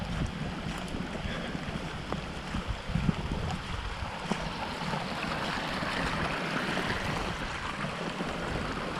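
Heavy storm water runoff rushes through a drain in spring, clogged with winter debris, producing a steady, dense roar of flowing water with light wind buffeting, continuous and close with no talk.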